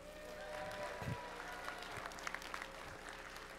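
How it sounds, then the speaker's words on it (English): Faint, distant applause from a keynote crowd at SOE Live 2014, low and steady, with a murmur of voices mixed in. "Please applaud."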